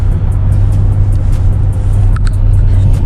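A supercharged V6 Mercedes AMG on a fresh tune accelerates hard in a short pull, its engine a loud, steady low roar with faint whine that keeps going throughout.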